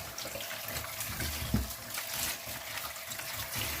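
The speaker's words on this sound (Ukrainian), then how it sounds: "Огірки треба ще один раз сполоснути під проточною водою." Cucumbers being rinsed under running tap water, a steady close splash and trickle from the faucet with a brief louder gush midway.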